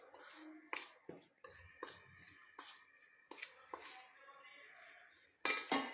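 Cake mix ingredients being stirred in a bowl, with a utensil clinking and scraping against the bowl in irregular close strokes and sharper knocks, with soft talk between them.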